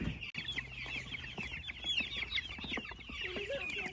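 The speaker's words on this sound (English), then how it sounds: "taking my meat birds and I'm going to put them out on grass for the first time today" Meat chickens being let out onto grass fill the scene with continuous overlapping clucks and soft chirps from a flock close by, steady throughout with no talk.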